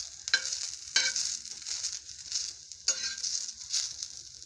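Finely chopped greens frying in oil crackle and sizzle close up, with bursts of sharper spitting and stirring scrapes over a quiet steady hiss.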